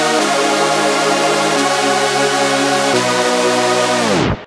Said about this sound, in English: Okay, so I have these chords here,